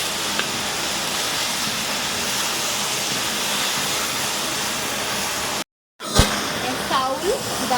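Rice, lentils, cabbage and spices fry in a pan for khichdi, giving a steady, loud sizzling hiss with a short pause and some stirring clatter near the end.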